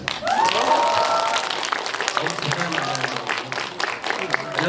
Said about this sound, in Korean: 저희 연기자들한테 박수 좀 많이 주세요.